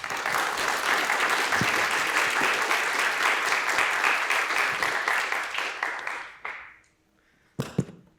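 An audience at a public physics lecture applauds in a loud, sustained wash of clapping that fades out after about six seconds, followed by a couple of sharp knocks.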